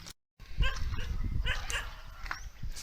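A dog in a residential neighborhood of Rawai, Thailand, gives short yips and barks amid street background noise, fairly close and moderately loud.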